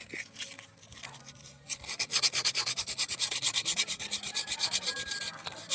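Rhythmic metal file rasping back and forth across the shaft of an electric stand fan, near and steady, with fast even strokes that start slower and settle into a continuous scraping pulse.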